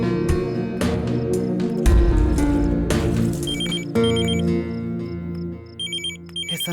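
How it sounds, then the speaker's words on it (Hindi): A telephone rings in short repeated electronic trills that come through over loud, shifting film music and sound effects in a Hindi-dubbed South Indian action movie. "इस समय किसका फोन होगा यार?"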